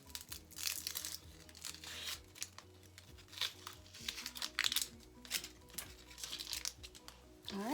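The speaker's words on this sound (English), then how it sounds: "What I'm going to do is peel it and then chop it up." A potato being peeled before chopping, heard as repeated quiet scraping strokes in a steady rhythm over a low background hum.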